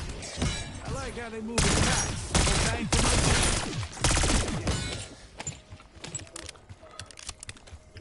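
Rapid bursts of gunfire from Call of Duty Black Ops 6 Zombies rattle in dense clusters, then thin out into scattered shots, with a voice talking over parts of it.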